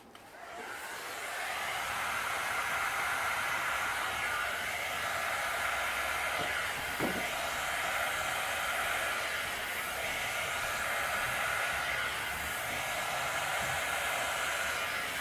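A hair dryer blows steadily and loudly throughout, pushing acrylic paint across a large canvas to stretch a single bloom pour, with no talk over the even airflow.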